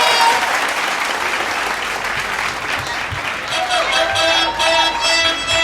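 Loud audience applause at a Betawi lenong comedy theatre performance fills the space, steady and dense, with musical tones rising toward the end.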